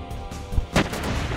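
Enemy machine gun fire from the video game Front Mission 3 RELOAD, in a factory interior battle, comes as two short, punchy bursts of shots close together over a low background rumble.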